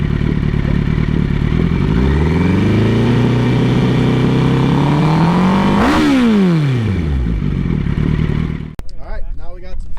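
A Hayabusa-swapped Can-Am X3 engine revs loudly and close, climbing steadily to a sharp peak before falling back down, after which voices talk over a lower engine sound.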